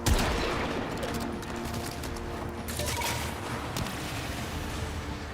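Rapid gunfire in the shooter game Warframe, dense bursts of overlapping shots crackling continuously at close range over a steady rumbling background.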